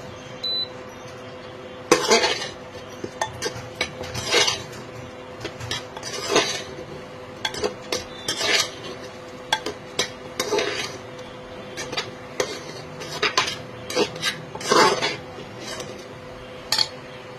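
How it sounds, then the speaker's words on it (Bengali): Daliya being stirred and fried in a pan on high flame, with a utensil scraping and clinking against the metal in irregular bursts every second or two over a low steady hiss. "সব কিছু একসাথে মিক্স করবো, একটু ফ্রাই করবো।"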